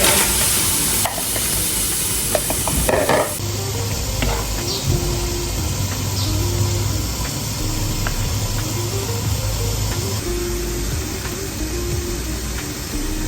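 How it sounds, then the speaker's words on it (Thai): Tofu being added to a pot of soup already at a boil: a steady bubbling, sizzling hiss with soft knocks and stirring clatter, close up, with no talk. "ดือดได้ที่แล้วพี่ก็จะใส่เต้าหู้ลงไปอีกนิดนึงนะคะ"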